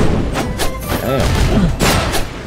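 Explosions in the action platformer Skul: The Hero Slayer, a rapid series of punchy booms and thuds layered over game music and effects, loud and close.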